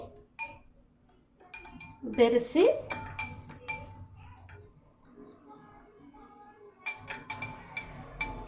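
A metal spoon clinks against a glass while stirring black salt into a drink, with scattered light chinks and a brief swirl of taps, quiet between strikes; a voice speaks faintly underneath.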